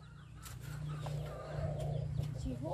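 Chickens cluck on a rural Mekong Delta farm in Dong Thap, their short calls repeating moderately close over a low, steady hum.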